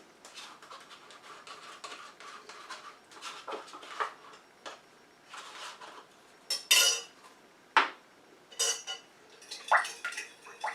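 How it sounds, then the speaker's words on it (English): A spoon stirring vitamin E into a melted lotion oil phase in a bowl, soft scraping strokes broken by a few sharp clinks against the container, close and fairly quiet. "I'm going to stir that and make sure it is completely dissolved in there"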